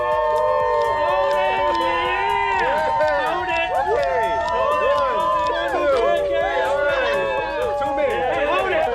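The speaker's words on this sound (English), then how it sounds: "All right, and on 3, we're cheering." A wedding party cheers together on cue, a loud burst of overlapping whoops, shouts and excited voices from a close group, sustained throughout.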